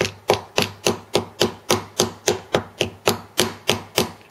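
A metal socket is tapped repeatedly to seat a replacement ball bearing in a NutriBullet base, giving about sixteen crisp, evenly spaced knocks in a steady rhythm, close by and with no voices.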